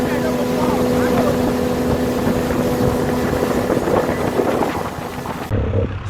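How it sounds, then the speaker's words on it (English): A motorboat engine drones steadily on a ride out to Brass Island, loud and constant with wind buffeting the microphone, cutting off abruptly near the end. "we should be taking a boat ride to Brass Island"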